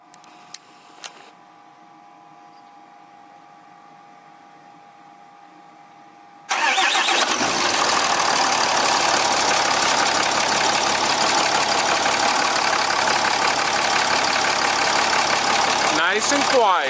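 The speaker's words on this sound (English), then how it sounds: "we're going to fire her up before putting the valve cover on just to make sure everything idles correctly" A 6.7 Cummins diesel engine with its valve cover off cranks and fires up, then settles into a loud, steady idle close by; faint clicks and quiet sounds come before the start.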